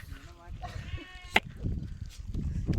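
Sheep on a village sheep farm give a short, wavering bleat close by, followed by a sharp knock. Low rustling, and nearby voices talk in the background.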